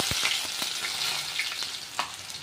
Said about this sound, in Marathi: याला चांगलं लाल कलर येईपर्यंत थोडंसं तळून घ्यायचं